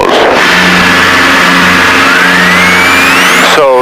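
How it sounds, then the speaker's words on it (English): A Piper Seneca twin-engine aircraft runs while its engine warms up, with a loud, steady propeller drone and a rising whine close by. "we're going to wait for that right engine to warm up"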